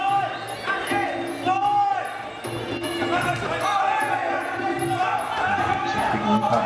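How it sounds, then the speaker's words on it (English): Crowd at a live fight-show bout in Perth, steady loud cheering and screaming throughout with brief shouts rising above, voices from the ring area mixed in. "The crowd are definitely behind it. You can hear them screaming in the background."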